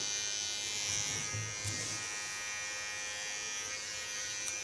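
Electric hair clipper cutting a person's hair, a steady close buzzing hum that runs throughout with faint brushing and snipping textures, no talk.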